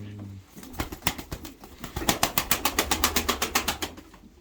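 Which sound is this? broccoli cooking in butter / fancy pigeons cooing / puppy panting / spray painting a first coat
fancy pigeons cooing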